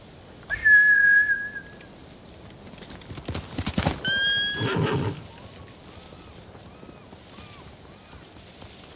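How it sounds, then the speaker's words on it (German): Samurai horses in Ghost of Tsushima let out a loud whinny, then a sharp whistle and a further neigh, followed by hoof clip-clop receding into the distance over quiet ambience. "Die Hunde haben die Pferde verjagt. Das sind Samurai-Rösser."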